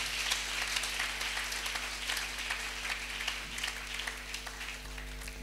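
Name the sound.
congregation applauding and acclaiming the Lord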